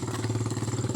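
A motorcycle engine drones steadily at close range with a pulsing, chugging rhythm, heard alone without talk over it.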